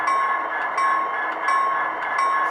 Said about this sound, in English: It's the bell. That actually sounds like it a lot.